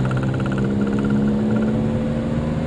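Simca Ariane 4 driving along, a steady mid-pitched engine drone with constant whirring from inside the car, moderately loud and unchanging.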